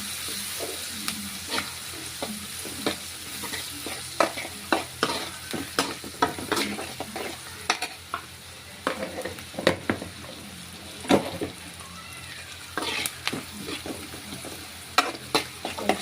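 Chicken frying in a pan with turmeric being added, a constant sizzle broken by frequent clicks and scrapes of a spoon stirring against the pan, close and moderately loud.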